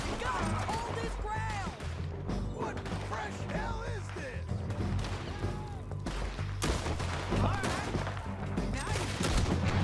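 Gunfire in Red Dead Redemption 2, scattered shots going off in the game's mix over constant background clutter, with people talking and laughing throughout.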